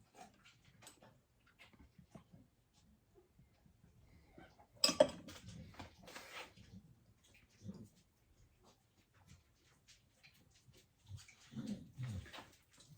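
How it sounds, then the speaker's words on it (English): A dog whimpers and shuffles about indoors in short, scattered bursts with a few light clinks, during a honey mead fermentation session. "Bloody dog always comes in when I'm videoing."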